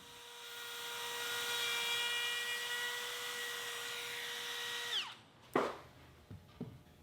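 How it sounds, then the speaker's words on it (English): A power router whines steadily for about five seconds cutting a chamfer on white oak table legs, then spins down and stops, followed by a few sharp knocks and clatters. "I'll use the router to add a slight chamfer at the bottom of the legs."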